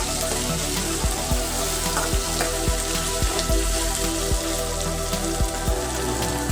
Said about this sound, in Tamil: தக்காளி தான் கொஞ்சம் மெத்தியாக வதக்கணும்